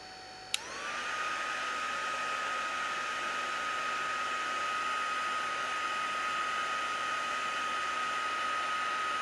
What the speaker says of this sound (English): Now we're just going to heat the last of the embossing powders.